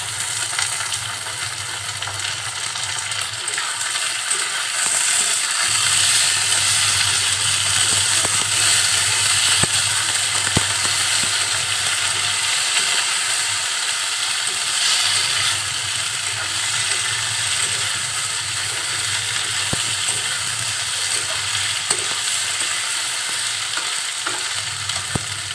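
Cumin, ginger and garlic pastes fry in a pan, a loud dense sizzle running steadily throughout with occasional scrapes from a stirring utensil, close and uninterrupted by speech.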